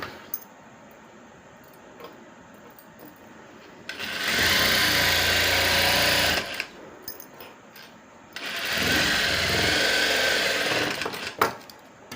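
A sewing machine stitches fabric along an existing seam in two loud, steady runs of about two to three seconds each, separated by a quiet pause with faint handling noise.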